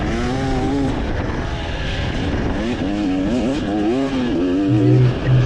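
A TX300 dirt bike engine races around a motocross track at Ott Ranch, loud and close as its tone climbs and dips through repeated throttle openings and gear changes.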